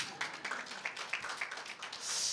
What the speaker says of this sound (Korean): 이 대목에서 박수 한번 쳐주셔야죠.